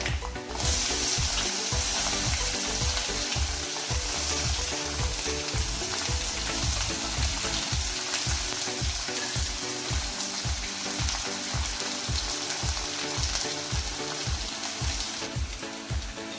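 Finely chopped onion fries in oil with a steady, loud sizzle and a rhythmic pulsing underneath, repeating roughly every second, sustained close by throughout with no speech.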